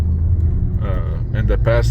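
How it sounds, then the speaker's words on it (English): A car on a road test gives a steady low engine and road rumble throughout, with a person talking over it. "And now we're doing the road test, as you see."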